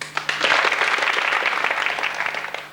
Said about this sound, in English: So would you indicate by applause which of these subjects you'd like me to talk about?